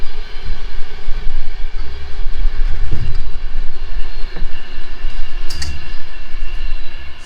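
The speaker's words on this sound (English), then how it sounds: "Train going by over there." A train passes at a distance across open country, a steady low rumble and rolling noise spread over several seconds with no voices.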